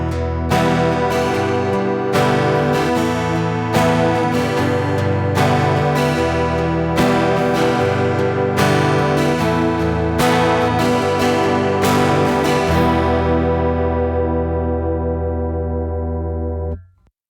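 Twelve-string electric guitar with its doubled strings slightly detuned for a shimmering chorus sound, playing a steady sequence of strummed chords alone, then ringing out to silence at the end.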